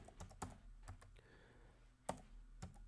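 Typing on a computer keyboard: a series of close, sharp key clicks in an uneven rhythm, with a short pause in the middle and a louder keystroke near the end, in a quiet room.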